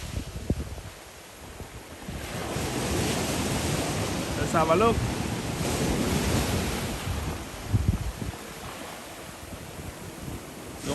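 Sea waves break and wash steadily against a rocky, eroding coastline, a continuous roar with gusty wind buffeting the microphone and a short spoken phrase partway through.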